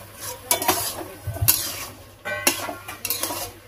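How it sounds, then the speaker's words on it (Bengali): Ash gourd frying with turmeric in a pan, stirred with a metal spatula that scrapes and clinks against the pan in bursts over a soft, steady sizzle, heard up close. "এবার হলুদটা দিয়ে ভালো করে নেড়ে নিলাম, এবার ভেজে নেব"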